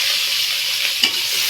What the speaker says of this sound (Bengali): পেঁয়াজ কুচি লঙ্কা কুচিটা একটু ভালো করে ভেজে নেব।